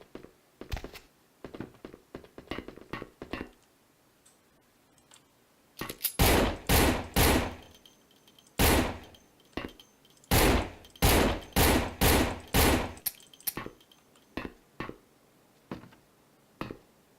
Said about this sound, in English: Feel like those gunshots in the other room didn't get his attention.